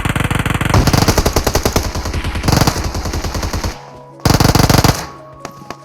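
Automatic rifle fire in the PUBG Mobile battle royale game, loud rapid bursts of gunshots in several sharp volleys separated by brief pauses, close and dominant with no talking.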